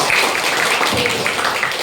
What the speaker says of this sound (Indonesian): Coba tepuk tangan dulu untuk Aulia